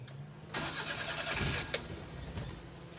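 A car being cranked after stalling, with the starter whirring and the engine catching into a rough, uneven idle, close and steady, no talking.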